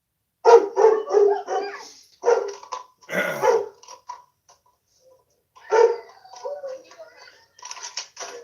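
Dog barks and growls sharply in repeated bursts during a police confrontation outdoors, loud and close, with agitated people talking between and over the barking.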